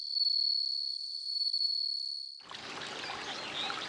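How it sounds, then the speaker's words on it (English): Crickets singing in a Japanese garden setting, a steady high continuous trill for over two seconds, then giving way to a noisy broadband wash resembling trickling water. "This custom of listening to insect song dates back to at least the 8th century."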